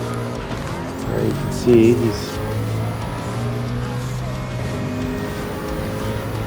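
Nissan R92CP race car engine in Gran Turismo 7, a steady droning engine tone with a brief louder rising burst, under someone talking.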